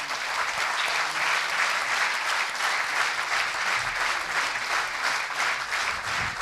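Steady applause from a concert audience at a memorial concert, dense and sustained throughout with no voices over it.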